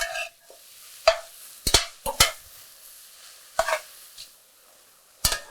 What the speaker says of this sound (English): We're just going to saute these down for a few minutes until they start to soften.